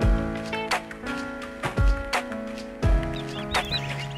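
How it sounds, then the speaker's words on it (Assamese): Young turkey and guinea fowl chicks, about one and a half to two months old, cluck and peep close by in a repeated burst-and-pause pattern, loud and busy. "আপোনালোকক মই এতিয়া দেখুৱাম আমাৰ সৰু সৰু পোৱালিখিনি"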